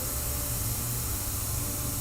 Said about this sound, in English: I'm kind of just spraying halfway on the paper and halfway on the stencil